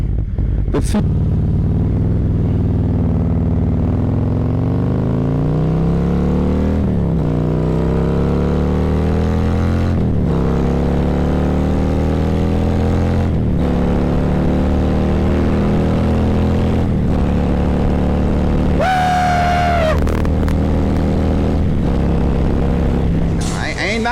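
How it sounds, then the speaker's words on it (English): A Harley-Davidson CVO motorcycle with a 132 engine rides along, a loud continuous engine drone rising and falling through the gears with several shifts, someone talking over it throughout. "I'm finna test ride my boy CVO with the 132 on it."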